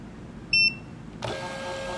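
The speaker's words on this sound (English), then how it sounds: "it is actually feeding through so it can begin recognizing your paper" A short high beep is followed by a steady mechanical whir as a small shipping label printer motor feeds paper through, close and continuous.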